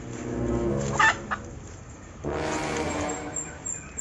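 A hen caught in a hunting trap gives a few short clucks over a steady mechanical hum, then a louder rushing, rumbling noise swells up and continues.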